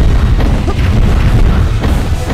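A blast crate explodes in the action game God Eater Burst, making a loud, dense, booming rumble that fills the whole stretch without pause, heavy in the low end, with no speech.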